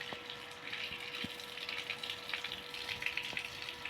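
Water pours steadily from a pipe to wash down a floor, a continuous hissing gush with a few faint knocks underneath and no talking.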